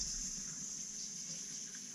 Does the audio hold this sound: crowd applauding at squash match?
no